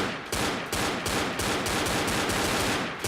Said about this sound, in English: It's just the auto pump. It's one of my favorite guns.